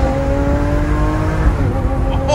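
A Mercedes S65 AMG fitted with an experimental race exhaust pulls hard, its engine note rising through a loud, close, sustained roar with a brief shift near the end.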